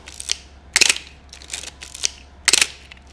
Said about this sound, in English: and then you heard everything reset